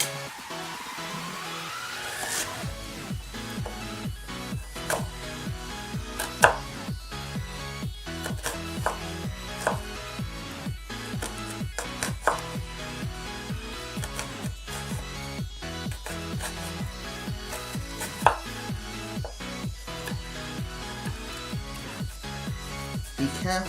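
Rapid, steady knife chopping with a really sharp blade on a board while preparing a French cottage pie, a dense run of crisp cuts with occasional louder knocks, no speech.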